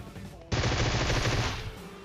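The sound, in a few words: gunfire in the video game PUBG Mobile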